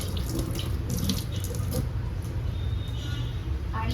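Tap water gushes into a kitchen sink as capsicum is washed, a loud close splashing flow with rubbing and handling noises mixed in, running steadily for a few seconds.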